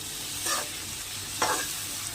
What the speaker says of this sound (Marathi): आपला कांदा शिजत आहे तर आपण टाकूया शिमला मिरची। तीही मस्तपैकी परतवून घेऊया, मऊसर शिजवू द्या।